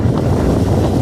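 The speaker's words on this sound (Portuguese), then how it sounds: "Vento sul." Strong south wind sweeps over Lake Itaipu, a loud, dense roaring rush buffeting the microphone continuously with low rumbling gusts and no pauses.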